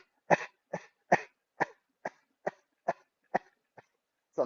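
Repeated forced coughs, about ten short bursts in a steady rhythm, come from a group doing a breathing exercise in a healing class, each cough sharp and close with brief silences between.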